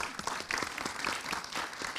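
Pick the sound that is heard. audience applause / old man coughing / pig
audience applause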